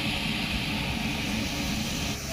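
A special aircraft carrying a rescue machine to a collapsed tunnel site roars with a steady, loud, broadband engine drone that fills the whole stretch without pause.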